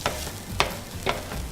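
Paprika frying in oil in a paella pan, a soft sizzle with three quick scraping bursts of stirring spaced about half a second apart.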